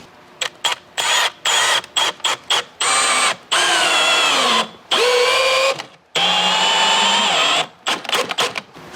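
A power drill drives long six-inch screws through thick bottom plates into a 1930s farmhouse rafter, whirring in repeated short bursts and longer pulls, with the motor's pitch dropping under load, loud and close.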